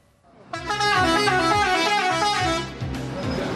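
A loud, sustained bus horn blares at a crowded intercity bus terminal during the holiday travel rush. A long honk begins abruptly, briefly dips, then resumes over faint background bustle.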